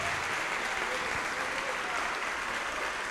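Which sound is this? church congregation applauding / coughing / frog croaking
church congregation applauding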